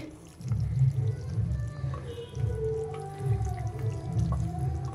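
Taro root tamarind curry bubbling in a clay pot, a soft continuous low simmer with gentle, irregular bursts of bubbles, close by and steady throughout.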